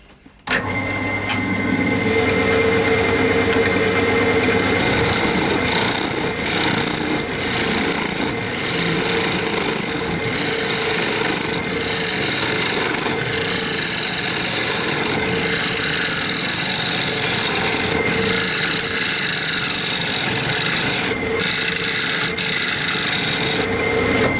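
A carbide cutter on a wood lathe shaves a spinning yew bowl with a continuous close scraping rasp. Light ticks and catches break the steady cutting now and then.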